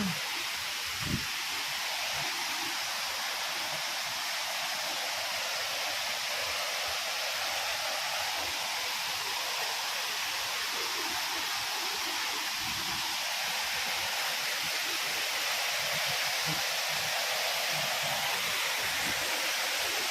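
A waterfall at Tanwat in Nuapada district pours steadily, a dense continuous hiss of falling water, close and unbroken, with faint low thumps beneath.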